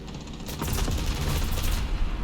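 Dense rapid gunfire in a video game, a loud rattling burst of repeated shots that runs for about two seconds over a constant noisy background.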